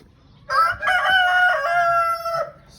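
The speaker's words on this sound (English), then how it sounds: "Silky roosters" A Silkie rooster crows once on a farm, a loud, close, drawn-out crow with a bright harmonic wail lasting about two seconds and breaking briefly partway through, over a low background rumble.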